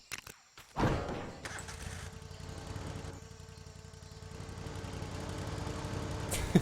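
A mid-pitched lawn mower motor in a LEGO Worlds video game drones continuously after a few sharp clicks, steady and fairly close, with slight shifts in tone.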